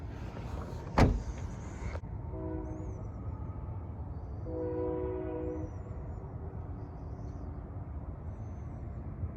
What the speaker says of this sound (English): Train in the distance.